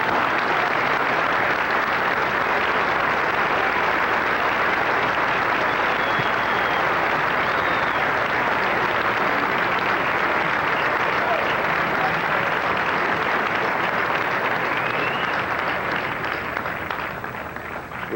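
An audience applauds Dutchy Caray at a 1988 Harry Caray tribute, a long even wash of clapping from a large crowd that holds steady before tapering slightly at the end.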